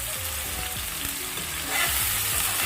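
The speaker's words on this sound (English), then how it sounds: "So I add the seasoning to the pot now, so I'm just gonna let it stay there a little bit." Seasoning sautés in hot oil in a pot for Jamaican corned beef, a dense, continuous sizzle that swells slightly toward the end, with soft music underneath and no talking.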